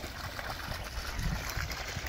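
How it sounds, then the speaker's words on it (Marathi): Water from a 3 HP solar borewell pump at 70 metres gushes out in a steady, dense rush under overcast skies, a continuous close splashing with no voices. "सोलर पंपाने एवढा पाण्याचा प्रेशर मारलेला आहे"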